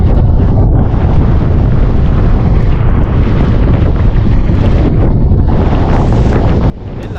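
Strong wind roars steadily and loudly across an open microphone during a tandem paraglide with a pilot at high altitude, buffeting continuously before dropping abruptly to a lighter rush near the end.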